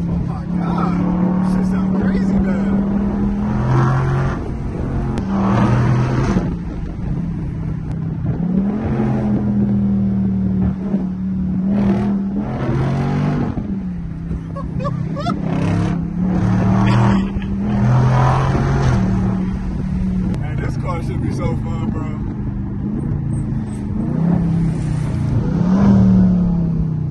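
A Dodge Hellcat engine revs repeatedly, rising and falling in pitch, loud and close, with people talking over the rumble throughout.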